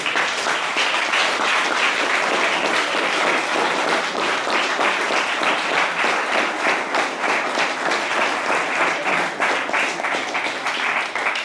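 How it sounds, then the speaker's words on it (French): Full, sustained audience applause after a panel discussion at a space industry conference, dense even clapping that stays loud and steady throughout. "On peut les applaudir."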